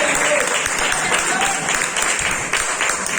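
A church congregation applauds during a sermon, dense and steady clapping filling the room for a few seconds with faint voices mixed in.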